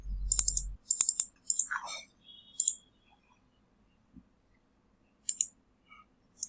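Clicks from a computer keyboard come in short bursts as words are typed and Enter is pressed, quiet and close, with pauses between groups and a low rumble at the start.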